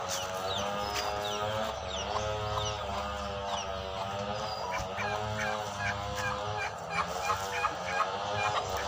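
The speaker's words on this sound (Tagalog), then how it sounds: "Saka yung itik namin na si Justin" Ducks call continuously on a farm, with a warbling, gobbling clamor of several birds over a steady outdoor background.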